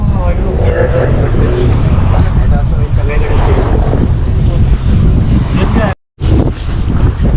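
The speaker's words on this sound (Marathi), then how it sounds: "वेव खूप आहे हवा खूप आहे" Strong wind buffets the microphone in a loud, continuous roar during a boat ride at sea off Malvan, Konkan, with waves and the boat's rush underneath, and a brief dropout near the end.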